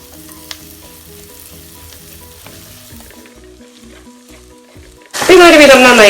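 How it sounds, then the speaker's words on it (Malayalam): Sliced onions hit hot oil in a pan for a Kottayam-style fish curry, bursting into a loud, steady sizzle after several seconds of quieter background sounds. "ഉള്ളി വട്ടത്തിൽ അരിഞ്ഞത്. എന്നിട്ട് ഇത് നന്നായിട്ട് ഒന്ന് ഒരു ഗോൾഡൻ കളറ് വരുന്ന വരെ നമ്മൾ വഴറ്റണം"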